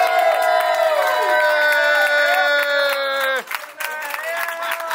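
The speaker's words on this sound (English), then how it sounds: "We're all going to start cheering when he comes in." A crowd cheers loudly together, with sustained shouted voices that briefly drop off near the end before the noise picks up again.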